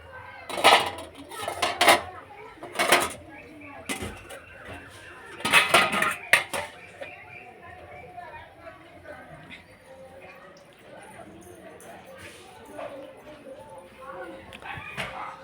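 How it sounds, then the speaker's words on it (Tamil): Jaggery sweet pongal is stirred in a pot on the stove, giving clustered metallic clinks and scrapes of a utensil against the pot, mostly in the first half, while a person talks. "அடிக்கடி கிண்டி விட்டுக்கிட்டே இருக்கணும்."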